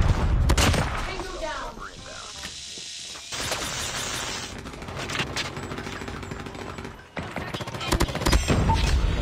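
Gunfire from the mobile shooter game Call of Duty Mobile, with dense bursts of shots and booms across the whole stretch, loud and close, and people talking over it.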